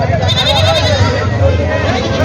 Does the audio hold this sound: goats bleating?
yes